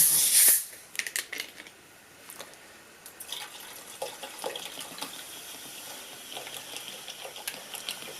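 Water poured into a rusty moped fuel tank, an AV92, with a splashy gush at the start, then trickling, sloshing and scattered metallic taps, fairly close and moderately quiet.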